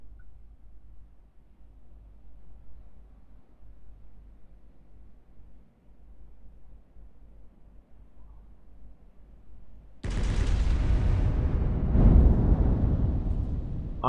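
HE shells firing from a Warspite battleship in the Roblox naval game Naval 1945, a sudden loud roaring boom that follows a stretch of low rumble and keeps rolling for several seconds.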